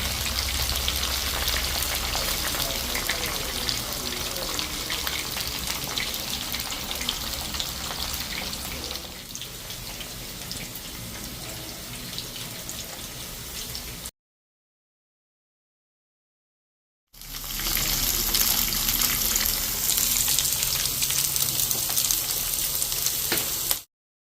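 Food sizzles and crackles in hot oil as it fries. A continuous, busy hiss runs for a long stretch, breaks off into a few seconds of silence, then returns just as strongly.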